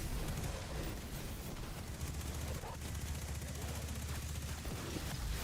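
Dense rapid gunfire shooting at a boss in the video game Destiny 2, a continuous loud rattling barrage with heavy low rumble, busy and sustained throughout.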